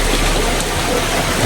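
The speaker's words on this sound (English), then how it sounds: "we are trying to find our way up the stream to the waterfall" Water of a mountain stream on Madeira rushes steadily as it flows toward a waterfall, a dense, continuous broadband wash with no pauses and no voices.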